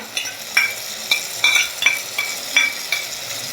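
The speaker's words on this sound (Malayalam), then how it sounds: "അതും കൂടി ചേർത്തിട്ട് നന്നായിട്ടൊന്ന് വഴറ്റിയെടുക്കാം" Chopped ginger and garlic sauté in a pan for a Kerala black pomfret fish curry, with a steady sizzle and a rhythmic series of about eight spoon scrapes and clicks, close and clear, with no voices.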